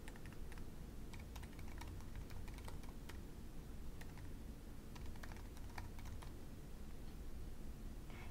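Quiet, rapid clicking of keys on a computer keyboard in uneven bursts, faint against a low background hum.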